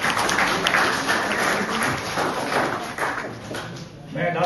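An audience claps at a National Youth Day event at ITI Nawanshahr, a dense, continuous patter of hands that thins slightly toward the end, mixed with crowd noise.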